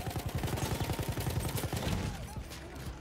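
A Martini-Henry rifle fires in Battlefield 1 amid a dense, loud battlefield din, with rapid crackling shots and rumbling blasts layered throughout.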